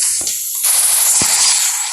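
Gunfire and a grenade blast in a shooting video game, a short burst of sharp cracks over a loud, sustained roar.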